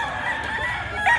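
A rooster crows at a gamefowl market in Bocaue, Bulacan, its drawn-out call carrying steadily over a busy background for just over a second, rising slightly at the end.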